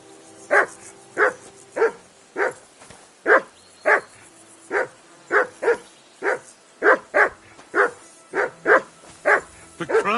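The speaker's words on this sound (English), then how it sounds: "Jesus, Henry, that barking's driving me nuts." A dog barks insistently and nearby in the video game Kingdom Come: Deliverance 2, a long run of roughly seventeen loud, regular barks spaced about half a second apart.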